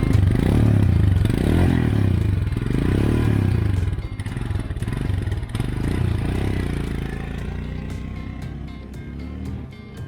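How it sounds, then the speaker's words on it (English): A Royal Enfield Himalayan BS6 motorcycle engine thumps loudly up close, its low rumble swelling with throttle blips before settling to a lower, uneven idle. "Now let's hear the throttle sound."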